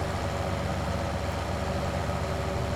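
A tractor engine idles steadily in a farming video game, a low continuous rumble at a constant level with no talk over it.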